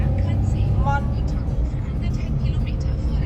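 A car drives along a road in Mallorca toward Cala Mondragó, its steady rumble of engine and road noise running underneath someone talking.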